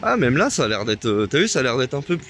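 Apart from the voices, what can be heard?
No everyday noise stands out behind the speech.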